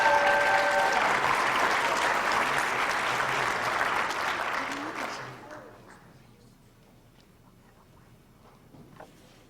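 Audience at a Martin Luther King community event applauds writing contest winners, a loud sustained round of clapping that gradually thins and fades away, leaving a few scattered claps and quiet room noise.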